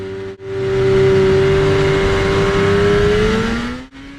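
A Yamaha SRX snowmobile engine revs up and holds a loud, close, high-pitched whine, the tone sliding slightly as engine speed climbs, then cuts off abruptly at the end.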